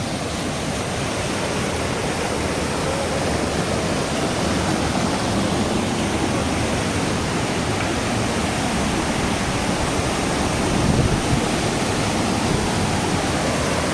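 Roaring waterfall at Daringbadi near Patabandha, a dense, steady broadband rush of falling water that stays loud and even throughout with no voices.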